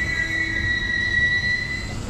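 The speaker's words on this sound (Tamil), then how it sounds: "இப்போது அடுத்ததாக ட்ரெயின் நிற்கிறது சீர்காழி ரயில்வே ஸ்டேஷனுங்க" Chozhan superfast express train on the Chennai Egmore to Kumbakonam line pulling into Sirkazhi railway station, a steady faint rumble with sustained high metallic wheel squeal tones running throughout.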